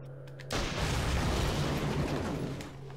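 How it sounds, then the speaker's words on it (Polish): An explosion in the video game Medal of Honor: European Assault hits suddenly as a loud, broad boom, then rumbles on for a couple of seconds before fading slightly. "Co tam wybuchło?"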